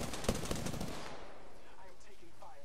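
Rapid video game gunfire in a battle, a dense burst of automatic shots that rattles loudly for about a second and then fades into a low background rumble.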